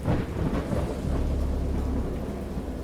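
Video game thunderstorm: heavy rain pours steadily while deep thunder rumbles and rolls continuously underneath, dense and loud with no voices.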